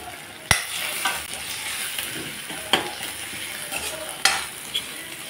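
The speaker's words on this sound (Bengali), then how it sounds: "মশলাটাকে ভালোভাবে ভেজে নিলাম" Ginger and cumin spice masala with Kashmiri chilli frying in a pan for rajma dal: a steady low sizzle with four sharp scraping stirs spaced through it, no talk.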